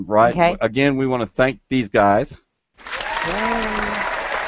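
Canned applause sound effect plays during a home interior design broadcast, a steady wash of clapping that follows a stretch of someone talking and runs on alone to the end.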